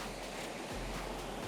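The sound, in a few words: river water flowing through an old stone weir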